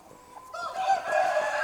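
A young three-quarter Asil, one-quarter Shamo cross hen gives a short run of close, soft clucks that grow louder over about a second, with no talking.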